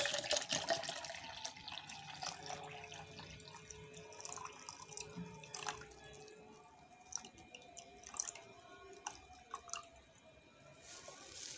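Deionized water poured into a container on a scale for a foaming booster recipe, heard close as soft trickling and dripping with small splashes, fairly quiet throughout.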